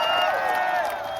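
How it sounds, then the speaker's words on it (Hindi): A university audience cheers loudly for a guest at a Parul University event. The crowd's noise is dense and sustained, with high voices whooping over the roar for about a second. "एक बार जोरदार तालियां फॉर किंग कुशाद अली जी"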